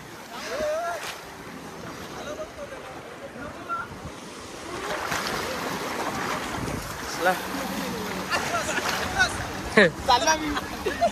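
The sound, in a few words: sea waves at the shore, Malvan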